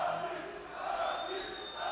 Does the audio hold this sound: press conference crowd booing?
yes